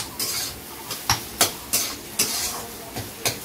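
Chowmein sizzling and being stirred in a large kadai, a steady hiss of frying punctuated by about eight rhythmic metallic scrapes and clanks of the spatula, close and clear with no speech.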